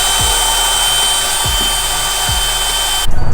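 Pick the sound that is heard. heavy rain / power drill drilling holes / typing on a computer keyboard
power drill drilling holes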